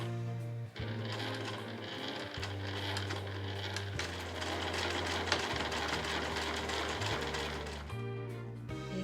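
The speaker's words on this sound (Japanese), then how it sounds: "表面の裏面を見ながら端から5ミリを縫っていきます。" A sewing machine stitches fabric 5 mm from the edge, running in bursts of rapid needle chatter with brief pauses and speed changes, close and clear with no talk.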